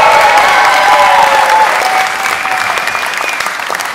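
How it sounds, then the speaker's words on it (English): Audience applause after a bass player is introduced at a summer symposium jazz band performance, a dense steady wash of clapping that runs the whole stretch with a faint sustained tone underneath, easing slightly toward the end. "Please give a round of applause to Alex on the bass."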